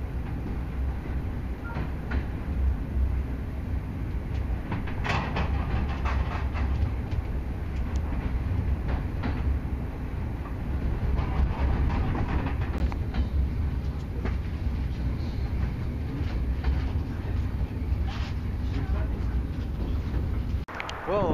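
A train rumbles steadily past at close range in Plovdiv, with a deep continuous roar and scattered clanks and rattles over the wheels.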